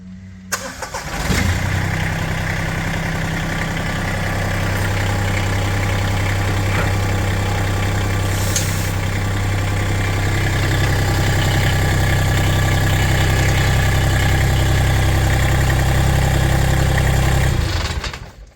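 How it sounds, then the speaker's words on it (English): A Massey Ferguson 1GC.25 compact tractor engine starts and idles with a steady low diesel rumble throughout, close and loud, with no talking. "Now we're going to start the tractor and lower the attachment down"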